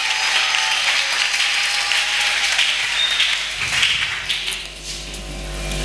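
A church congregation applauds and cheers in praise of God, a dense, sustained wash of clapping and voices that swells and then eases toward the end.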